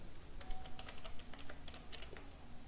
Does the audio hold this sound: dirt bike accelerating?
no